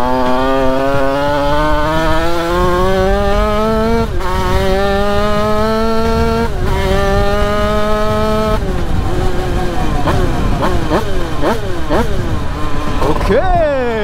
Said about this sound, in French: Le test du 86 Top Alu sur Reggio MRT, du coup, avec un pot KRM